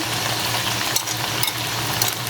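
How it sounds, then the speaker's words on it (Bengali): Carrot and capsicum frying in oil in a home kitchen pan, a steady close sizzle with a low hum underneath and a few brief stirring clatters. "এই তেলের মধ্যে আমি এই যে একটা গাজর আর 2টা ক্যাপসিকাম একটু ভেজে নিব।"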